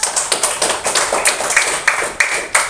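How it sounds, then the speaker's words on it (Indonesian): A short burst of rhythmic clapping from a few people in a classroom, about a dozen sharp, evenly spaced claps, loud and close, with no talking. "tepuk tangan untuk Sila yuk"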